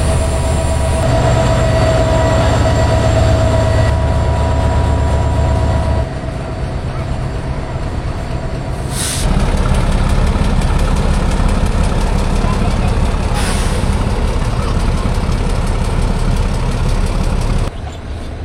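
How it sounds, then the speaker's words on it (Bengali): A locomotive engine warms up with a steady, loud diesel drone and constant hum, its tone shifting a few times, while brief hissing bursts break in and a voice speaks faintly in the background. "ইঞ্জিন গরম হচ্ছে"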